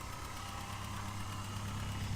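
A 2001 Honda S2000 engine idles steadily while warming up, a low, even hum with faint mechanical ticking, quiet and constant with no voices.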